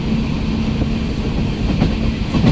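A crowded passenger train runs along the rails, a loud, close, steady rumble with rhythmic wheel clatter throughout.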